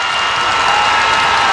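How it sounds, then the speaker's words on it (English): Home crowd at a 2007 women's basketball game against Connecticut roars in steady, loud cheering and applause after an 18-foot bank shot falls, a dense wash of noise lasting throughout. "listen to the crowd"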